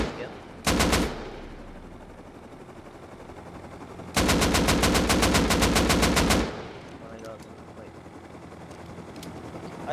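Gunfire in a video game during a police chase on minicopters: a short automatic burst, then a longer sustained rapid volley, loud and close over a droning background.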